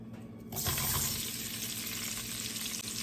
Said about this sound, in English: We're gonna add some more olive oil to this. It's time to cook our onions.